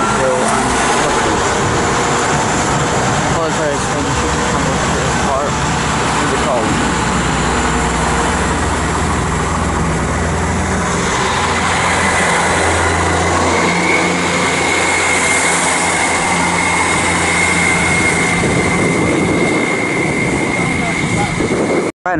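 An HST passes through Patchway station on a late evening, a loud sustained rumble and roar that holds steady throughout, with a brief voice partway through.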